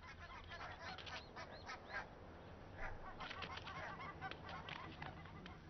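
Adult geese and goslings honking together in a Nordic mountain landscape, a steady chorus of overlapping calls and higher peeps, close and fairly loud, with no talking.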